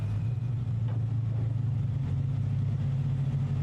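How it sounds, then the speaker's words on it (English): Lamborghini Super Trofeo race cars idle on the grid at Vallelunga, a steady, loud, low engine rumble that holds even throughout with no voices. "The cars fire up"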